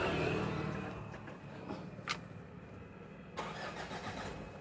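A Ford Everest with a jerky acceleration fault being started: a brief cranking burst that settles into a quiet engine idle, with a couple of short clicks or revs along the way and no speech.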